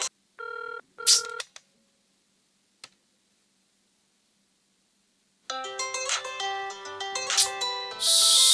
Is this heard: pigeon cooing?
no